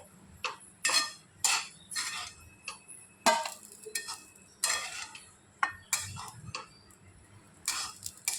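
Roasted coconut and spices being scooped out of a pan, repeated sharp scrapes and metal clinks of a spoon against the pan in a loose rhythm, close, with no talk.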